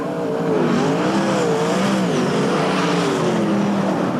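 Sprintcar race cars at Blue Ribbon Raceway, Horsham, in a 1998 World Series round, easing off the throttle into a corner: a loud, wavering engine roar whose pitch dips and rises as motors back off, no speech.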